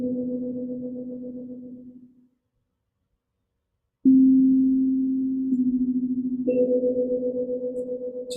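Sustained meditation tones hum steadily, cut off for about two seconds of silence, then return and shift to a higher pitch with a gentle pulsing waver, clear and alone.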